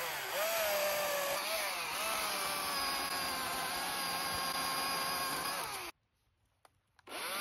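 A long-bar chainsaw bucking logs into four-foot lengths, a loud, steady close-up buzz with the engine pitch dipping under load, then cutting off into near silence before starting up again.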